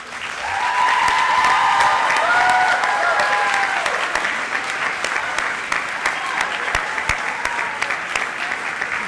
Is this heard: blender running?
no